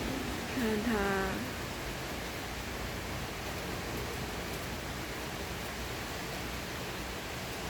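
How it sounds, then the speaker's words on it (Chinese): Heavy rain pours down in a steady, dense hiss that runs unbroken the whole way through, with a brief voice over it near the start. "这个雨算大雨哦"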